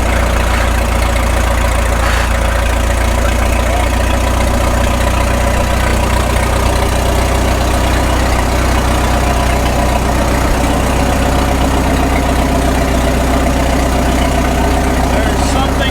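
A 1936 Caterpillar Twenty-Two tractor engine idles loud and close with a steady low rumble and knocking, unbroken for the whole stretch.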